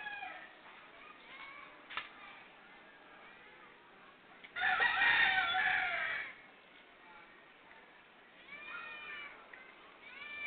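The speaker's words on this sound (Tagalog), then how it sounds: "nakabang si Pusa, oh." A cat meowing at a fish seller's place: several faint meows and calls, a louder, longer yowl in the middle, and more soft cries near the end over quiet background noise.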